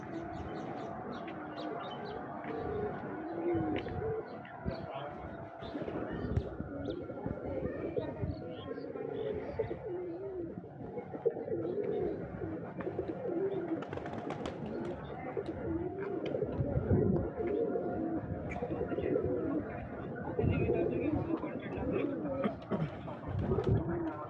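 Pigeons coo repeatedly in soft, throaty bursts at a pigeon farm in Narsingdi, Bangladesh, with wing flutters and scuffling nearby while people talk intermittently over the birds.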